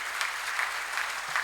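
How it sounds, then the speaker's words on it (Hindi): Listeners at a Hindi humour poetry gathering (kavi sammelan) clap together in a quick, steady rhythm, a dense group applause pulsing about every 0.4 seconds at moderate volume. "एक बार उनके सम्मान में आपकी तालियां हो जाएं।"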